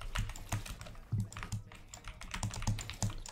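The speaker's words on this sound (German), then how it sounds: "Tastatur ASMR einfach" A gaming computer keyboard is typed on fast and continuously during a livestream, producing close, crisp clacks in quick bursts with no voices over them.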